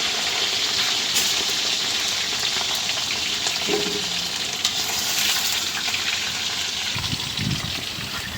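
Potatoes frying in a pan for a meat dish, a steady, loud sizzle that carries on unbroken with no voices over it.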